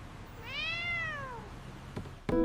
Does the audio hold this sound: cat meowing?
yes